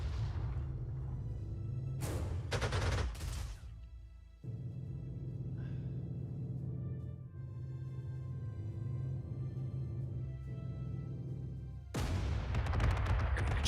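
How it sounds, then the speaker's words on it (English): Rapid anti-aircraft gunfire crackles in loud bursts against incoming bombers in the strategy game Panzer Corps II, with sharp volleys near the start and end over a steady low rumble of battle sound. "They're gonna get shot at by my anti-aircrafts."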